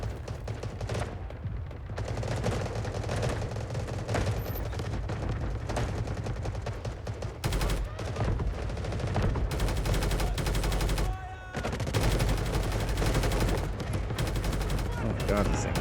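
A machine gun fires in a video game in long, sustained automatic bursts of rapid shots, loud and up close, with brief pauses between strings and a voice speaking now and then over the shooting.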